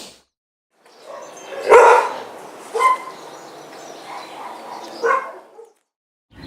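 A dog barking several times, sharp separate barks spread over a few seconds, fairly close and loud, with short quiet gaps between them.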